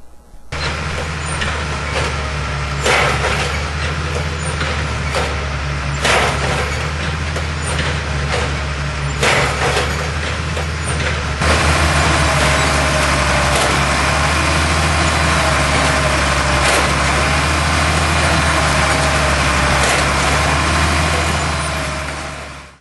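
A tractor engine drives the hydraulic power for a cotton press in a field, running as a loud, steady diesel drone the whole time, with the pitch and load shifting partway through.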